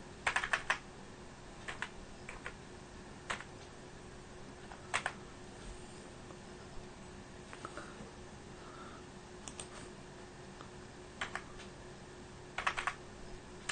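Someone types a short math query on a computer keyboard, a few sparse, light key taps scattered over a quiet background hum, close by with no talking.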